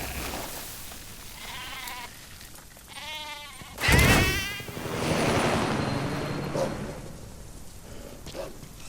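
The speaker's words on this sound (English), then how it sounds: "it looks like we have a goat here that's been separated from its herd" Goat bleating in Metal Gear Solid 5 The Phantom Pain, a lone goat separated from its herd, giving several wavering bleats over a buzzing insect-like ambience.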